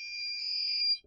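A DIY ESP32 digital alarm clock's alarm rings as one steady, fairly quiet high electronic tone held for about a second before it cuts off.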